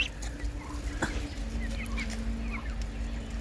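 Ducklings and chicks waiting for a feed of rice mixed with starchy rice water make faint, scattered peeping and clucking calls over a low, steady background hum.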